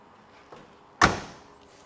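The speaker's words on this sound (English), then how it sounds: "Door closes really well," A single solid thud of a 1968 Chevrolet Camaro RS/SS door shutting, preceded by a faint click, then quiet.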